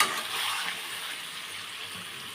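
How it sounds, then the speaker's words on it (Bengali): Water pours steadily into a pan of curry with potatoes, a soft continuous splashing rush that fades slightly as it goes on. "একটু নাড়াচাড়া করে জল ঢেলে দেবো।"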